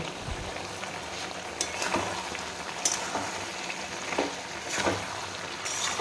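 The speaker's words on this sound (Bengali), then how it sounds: "এবার দু মিনিট মতো সবজিটাকে ভালো করে কষে নেব" Vegetables and chopped goat fat being sautéed in a pan for a banquet-style jackfruit curry, giving a steady close frying sizzle with occasional scraping stirs, no talking.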